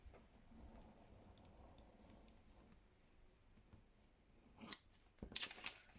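Scissors cut through two stacked sheets of paper for a collage book, quiet and close, with a few brief snips near the end after a stretch of faint handling.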